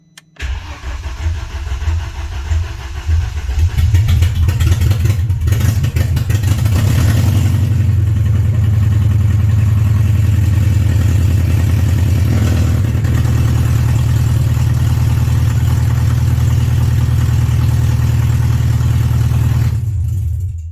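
A BMW 316i E46 engine cranks and catches after four years unused, then settles into a loud, steady idle that runs close and uninterrupted for about twenty seconds, with no talking.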